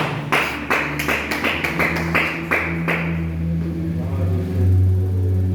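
A church congregation claps in praise, a run of about a dozen sharp hand claps over a steady low hum, tapering off after roughly three seconds into background rumble.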